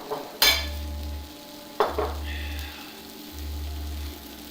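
Onions frying in a pan during home cooking of bulgogi, a soft sizzle under clanks of a utensil striking the pan and intermittent low hum.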